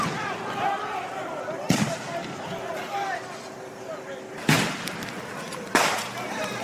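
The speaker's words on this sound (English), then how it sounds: "Now they are firing into the neighborhoods," Police fire smoke grenades into residential neighborhoods, three sharp distant booms spaced a few seconds apart that rise above a noisy outdoor scene, with a voice talking throughout.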